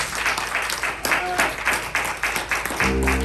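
A church congregation claps in steady, rhythmic beats, loud and close, with voices and singing mixed in beneath the applause and a low sustained tone near the end.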